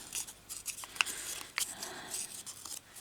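Scissors trimming paper scraps into junk-journal ephemera, a faint run of short snips and rustles, close up, with no talk over it.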